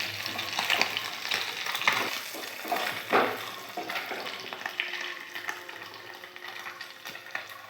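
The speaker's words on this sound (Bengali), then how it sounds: "একদম মাছগুলোকে ভাজা ভাজা করে ভেজে নিয়েছি" Small puti fish frying in a pan, a moderately quiet crackling sizzle broken by scraping stirs and light clatters near the start, easing into a softer steady fry.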